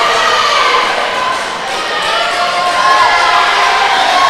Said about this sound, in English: Oh, so loud, the crowd.